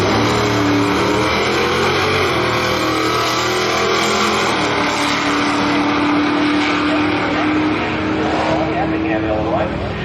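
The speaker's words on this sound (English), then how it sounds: "So this is a heads-up drag race to the end without going faster than your class index." Drag race cars, F-class entries in a heads-up race at an event in Saint Louis, roar loudly and continuously down the strip, their engines droning throughout with an announcer talking over them.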